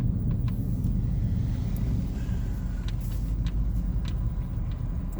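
Cars idle and creep past in a drive-through lineup, a steady low engine rumble close by with a few faint clicks and squeaks on top and no one speaking.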